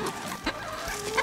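Chickens clucking inside a farm coop, a few short clucks and soft murmurs over a busy background of rustling and birds, close and moderately loud.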